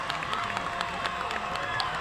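Lively crowd cheering and shouting at a women's football final in Roraima, a continuous dense roar of voices with scattered claps and whistles, steady and fairly loud throughout.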